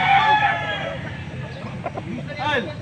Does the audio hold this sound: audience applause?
no